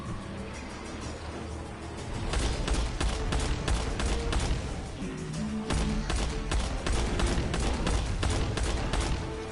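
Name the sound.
gunfire shooting at enemy in Dalek video game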